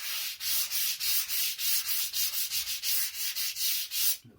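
Sandpaper is rubbed along the edges of a cardboard board-game box at 45 degrees to chamfer them. About fifteen rhythmic, close scratchy strokes follow one after another, loud and alone.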